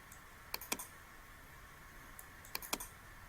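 A few sharp keystrokes on a computer keyboard type a short command, two small clusters of clicks separated by quiet, close and faint.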